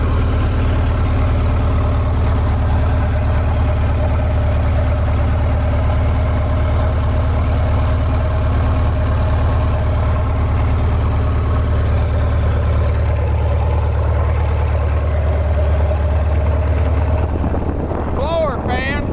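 A Cat D315 diesel engine idles on a Lincoln SAE 300 Twin Arc welding machine, a loud, steady low drone with a constant even rumble, close up and alone.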